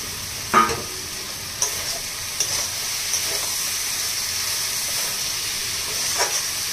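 Kochur loti (taro stolons) is stirred in a pan as the last water cooks off. A constant hissing sizzle runs throughout, broken by several sharp scraping clinks of the spoon against the pan, close and clear, with no talking.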